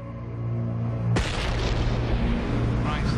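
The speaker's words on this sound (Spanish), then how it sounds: "Una explosión." A sudden loud explosion on the Piper offshore oil platform cuts in after about a second and gives way to a sustained roar and rumble of noise as fire breaks out.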